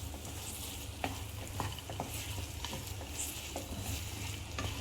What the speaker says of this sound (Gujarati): હવે આપણે એને મિક્સ કરી દઈશું